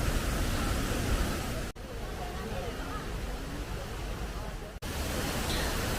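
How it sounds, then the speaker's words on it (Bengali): A waterfall on the road from Shillong to Dawki roars steadily as water plunges down and flows away, a loud, dense rushing wash broken only by two brief cuts. "উপর থেকে জলটা পড়ে নিচে বয়ে চলে যাচ্ছে"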